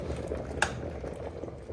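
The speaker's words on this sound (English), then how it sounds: "All right, so we're at a full boil. It does splash a little bit out of there" Water at a full boil in a Proctor Silex electric tea kettle bubbles and rumbles steadily, close and moderately quiet, with one small splash-like click partway through.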